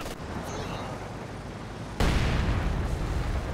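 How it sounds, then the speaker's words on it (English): A grenade goes off in Company of Heroes 2, a sudden broadband blast cutting in over a steady rumble of battle ambience, loud and close, with the roar continuing afterward. "Big grenade"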